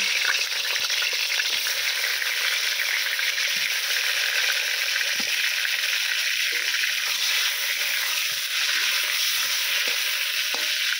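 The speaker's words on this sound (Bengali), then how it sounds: "তেলটা আমার গরম হয়ে গেছে, এবারে পটলগুলো দিয়ে দেব" Pointed gourd pieces fry in hot mustard oil, giving a loud, dense, continuous sizzle close by with faint scraping of a stirring utensil and no speech.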